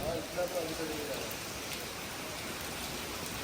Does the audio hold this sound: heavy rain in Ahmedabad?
yes